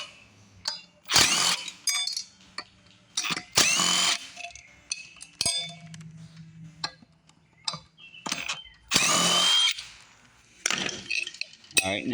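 A 1/2-inch impact wrench spins bolts off the rear wheel of an Exmark walk-behind mower in several short, loud rattling bursts. Metallic clinks and someone talking come between the bursts.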